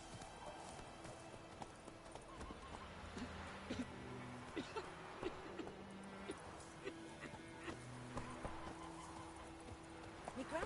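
A horse clip-clops steadily in The Witcher 3 video game, hooves plodding in a loose rhythm over a busy ambient bed with a brief whinny, while a dog whimpers faintly and voices murmur in the background.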